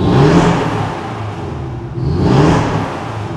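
A turbocharged 2.5-litre flat-four in a 2019 Porsche 718 Cayman GTS revs twice, each loud swell rising and falling in a smooth throaty roar, heard close with no talking.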